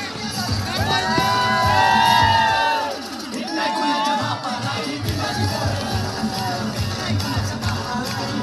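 A crowd cheers, whoops and shouts with excited children's voices at a prize distribution for a local sports league, loud and continuous with a swell of cheering early on.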